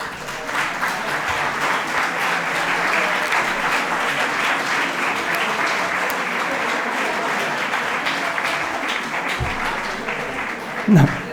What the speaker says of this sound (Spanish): ahora que aplaudieron y se despertaron todos